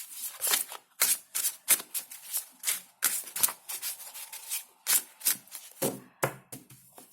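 Tarot cards are shuffled repeatedly in quick, crisp riffling bursts with short pauses between, close and clear with no talking.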